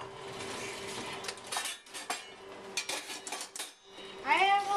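Utensils clink and scrape against a pan and plate as cooked shrimp scampi is lifted out and served, with a steady background hum and a short squeaky scrape near the end.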